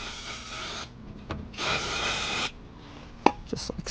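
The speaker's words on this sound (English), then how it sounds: "Take your rag and clean it up." A rag wipes down parts during a car oil change, two bursts of close, steady rubbing and scrubbing followed by a few light knocks and handling noises, with no talking.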